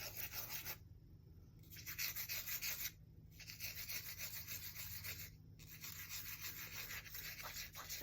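A pencil point rubbed back and forth on sandpaper glued to a wooden block, a steady close rasping scrape that runs almost continuously with a few short pauses and no talking.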